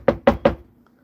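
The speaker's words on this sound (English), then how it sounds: "knocking at the door." Three quick, evenly spaced knocks on a door, close and crisp, followed by a brief quiet decay.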